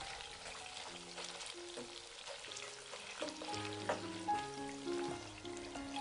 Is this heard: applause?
no